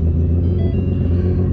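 A 1200-horsepower Ford Mustang engine rumbles steadily and loudly at close range, a deep, continuous low throb with no speech over it.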